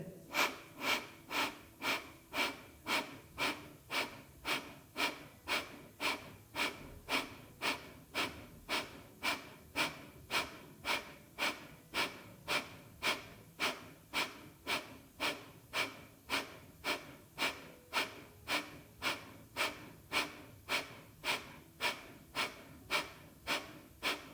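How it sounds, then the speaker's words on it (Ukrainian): Kapalabhati yoga breathing at a moderate pace: a long, even series of sharp, forceful nasal exhalations, each a short puff at a steady rhythm, close and clear with no talking. "глибокий повний вдих і капелабхатів в помірному темпі"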